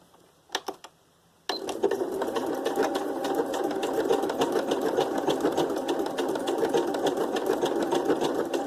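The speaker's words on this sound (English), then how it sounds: "And then I'll go to a fancier stitch. I'll try the leaves again." A sewing machine stitches a decorative leaf pattern on a paper tag embellishment, starting abruptly after a few clicks, then running in a steady, close, rapid mechanical chatter with a rhythmic whir.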